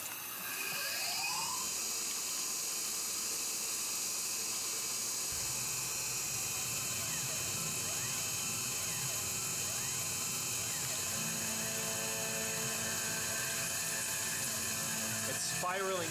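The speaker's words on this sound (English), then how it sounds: "Now it's changed to a quarter inch 4-flute end mill from Lakeshore Carbide." A quarter-inch 4-flute carbide end mill spirals down cutting bearing pockets in Timascus, a loud, steady high machining whine with shifting tonal sweeps and a lower rumble that starts a few seconds in.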